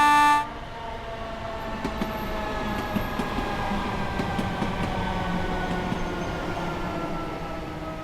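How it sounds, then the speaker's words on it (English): A Class 313 electric train in the Train Sim World 4 game on the East Coastway sounds a brief two-tone horn, then keeps up a steady rumbling, rattling run with faint clicks. "the horn is borderline identical to what you hear on the original 313 NTS Classic"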